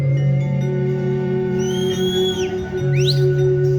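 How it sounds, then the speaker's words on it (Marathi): Someone in the audience at an Agri-Koli festival stage show in Nerul whistles, giving a couple of shrill rising and falling whistles over a steady, droning musical background. "कोण शिट्टी कोण वाजवतोय?"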